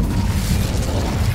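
Spell effect in Hogwarts Legacy as the Incendio fire spell is cast, a loud, dense roaring rumble with a heavy low end that holds steady for just over a second, with no talk.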